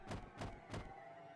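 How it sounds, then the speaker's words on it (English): Someone bangs on a door in the video game Higurashi, with three heavy, evenly spaced thuds in quick succession and no talking. "Shion banged on the door."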